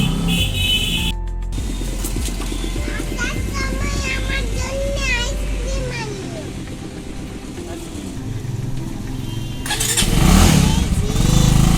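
A motorcycle starts and idles close by as a father rides off, engine rumble running steadily beneath a voice and other chatter, swelling louder toward the end.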